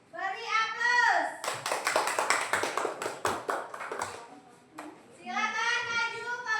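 A classroom of schoolchildren claps for a student group returning to their places, a burst of quick, dense applause lasting a few seconds, with children's voices talking before and after it.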